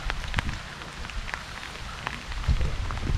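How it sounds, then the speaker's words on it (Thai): Steady rain falls after a night-long downpour at a fishing pond, a close, even patter of drops with occasional louder splashes. "ฝนยังไม่ขาดเม็ดเลยครับตั้งแต่เมื่อคืน"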